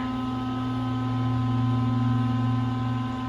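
A fan hums loudly and steadily in an electrical room beside an Otis hydraulic elevator, a constant close drone with a strong low tone and no talk.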